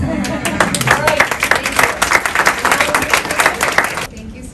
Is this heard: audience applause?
yes